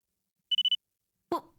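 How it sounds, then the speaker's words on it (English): A detonator in the game Virtue's Last Reward gives four quick, evenly spaced high electronic beeps, clean and close, followed by a short low thud. "And it went beep."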